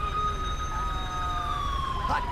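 Ambulance siren in the GTA 5 game during an LSPDFR police patrol, a steady wailing tone sweeping slowly downward, loud and continuous over a low rumbling engine and traffic bed.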